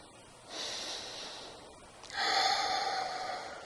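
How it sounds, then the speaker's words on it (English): A person breathes slowly and calmly during a guided meditation, drawing a soft, close breath in through the nose and then releasing a longer, breathier exhale through the mouth, with no talking. "just breathe in through the nose, out through the mouth"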